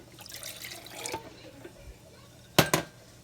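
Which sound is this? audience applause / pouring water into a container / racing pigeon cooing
pouring water into a container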